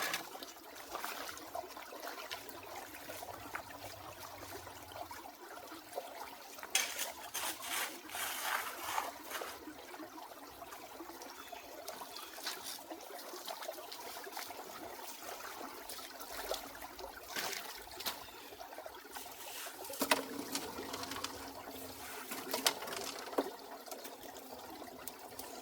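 Water runs steadily through a gold prospecting sluice box in a stream bed, a constant close trickling wash with occasional louder splashes and rock clatter, with no voices.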